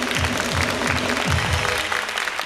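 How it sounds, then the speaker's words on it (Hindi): A talk-show studio audience claps for Momal Sheikh, steady loud applause with rhythmic low drum beats pulsing underneath roughly twice a second. "मोमल के लिए तालियां"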